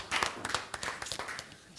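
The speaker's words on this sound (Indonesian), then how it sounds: "Mari beri tepuk tangan semua saudara." A church congregation claps during a worship service, a scattered burst of applause from many hands, fairly quiet and brief, with a voice speaking over it.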